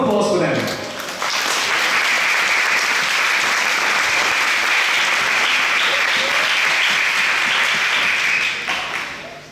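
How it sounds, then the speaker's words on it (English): Loud, sustained applause from a large crowd at a music school concert rises after a brief voice and keeps going for several seconds before starting to fade. "a round of applause for them"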